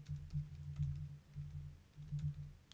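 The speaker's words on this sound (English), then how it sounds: "apologies if you hear a bunch of typing and all that" Quiet clicking of typing on a computer keyboard, keys tapped in short irregular bursts with small pauses between them, close by and with no voices.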